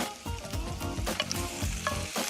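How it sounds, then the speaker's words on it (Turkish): Butter and diced beef cubes sizzle in a frying pan with onions, a steady close crackle and spit that flares in bursts with stirring, no voices. "2 yemek kaşığı tereyağımı tavama ilave ediyorum. Güzelce eritiyorum. Ve bu aşamada etlerimi de içine atıyorum."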